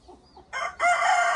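A rooster, a spotted pudakodi gamecock of Thurpu or Salem breed at a Nellore farm, crows once loudly and close after faint bird calls, the drawn-out cry ending abruptly.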